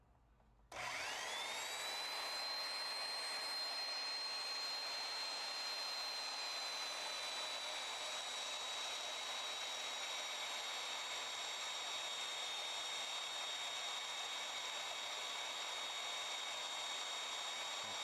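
A homemade portable bandsaw switches on and runs with a steady, close, high-pitched whine and whir, holding constant with no cutting or talk.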